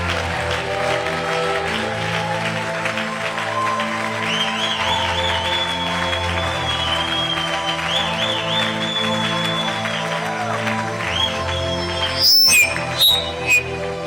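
A church congregation applauding, a dense, sustained roar of clapping with whistles and cheering voices mixed in, loud and continuous throughout.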